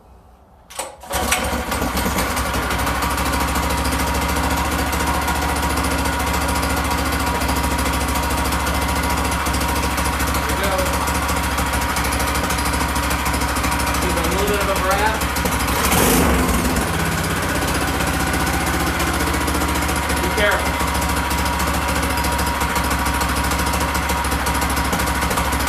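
A Predator 212cc engine fitted to a Phatmoto bike, warm with the choke partly off, starts and runs with a loud, close, steady chugging drone and a few brief sputters.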